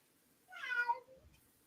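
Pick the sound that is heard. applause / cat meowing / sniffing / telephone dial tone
cat meowing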